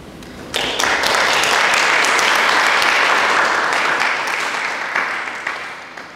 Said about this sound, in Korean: 다 같이 박수로 축하해 주시면 감사하겠습니다